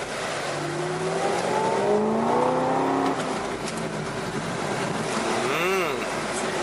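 A sports car engine pulls in second gear, rising in pitch as it accelerates, under steady road and wind rush, with someone talking briefly.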